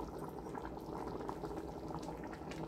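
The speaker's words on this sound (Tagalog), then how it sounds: "Yan, kumukulo na po." Pot of ginisang munggo, a mung bean stew seasoned with bagoong, boiling steadily, with a continuous bubbling simmer throughout and no talk.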